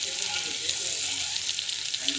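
Ingredients sauté in a pan with no salt added, giving a steady, close sizzle and hiss with faint stirring scrapes throughout.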